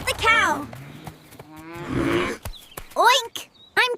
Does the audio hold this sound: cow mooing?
yes